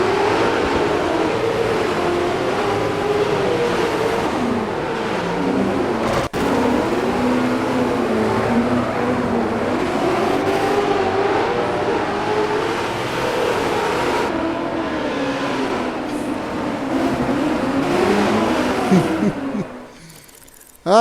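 Off-road racing truck engine in DIRT 4 drones and revs continuously at close range, rising and falling with gear changes, before cutting out abruptly at the end.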